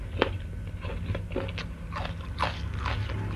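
Raw peeled petai beans are bitten and chewed with crisp, irregular crunches close to the mouth, alone without talk, some bites sharper and louder than others.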